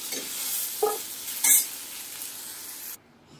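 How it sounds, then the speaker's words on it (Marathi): Ridge gourd pieces roast in oil in a pan for a spicy thecha relish, making a bright, loud sizzle with a few spoon scrapes before it cuts off abruptly near the end. "असे छान तेलात भाजून घ्यायचे."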